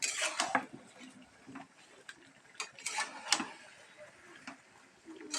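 Chicken and potatoes fry in a pan while a utensil scrapes and clinks against the metal in irregular stirring strokes, fairly faint and close, with a few louder clatters.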